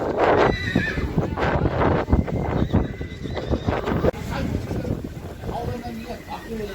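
Horses and foals at a busy horse market whinny and neigh several times close by, with clip-clopping hooves and people talking throughout.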